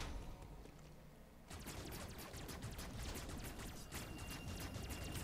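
Samus firing at a slug enemy in Metroid Dread: loud, dense rapid-fire blasting that fills the whole stretch, with sharp repeated shots layered over constant game noise and no voice.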